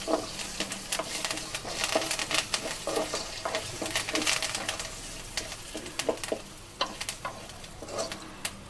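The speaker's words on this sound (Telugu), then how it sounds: "ఈ కరివేపాకు బాగా గోలిన తర్వాత" Curry leaves fry in a pan of hot oil while poha is prepared, giving a steady sizzle broken by frequent crackles and stirring scrapes. The sound is close and moderate, with no talking.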